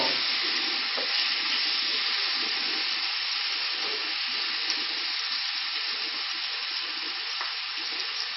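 Bacon frying in a pan makes a constant, even sizzle, a bright hiss with faint crackles that holds steady throughout and has no talking over it.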